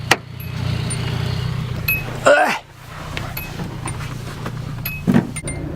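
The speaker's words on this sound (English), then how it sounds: "Guess I gotta move my car now." An old beat-up car is moved in a steady low engine rumble, with a brief mechanical whirring surge midway and a few faint clicks, and no clear talk.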